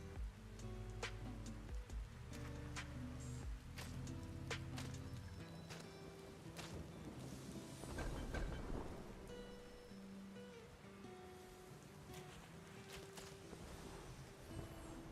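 Rain falls in the video game Sky: Children of the Light, a steady wash of patter with scattered sharper drop hits and soft rumbling layered over game music throughout.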